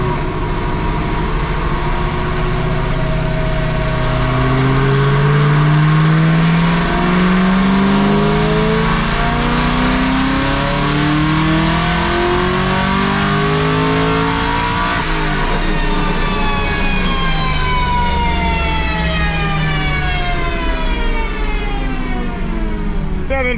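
A procharged car running about 30% ethanol blend accelerates hard through repeated pulls, its engine note and supercharger whine climbing and falling loudly and continuously, with rising harmonic sweeps after each shift.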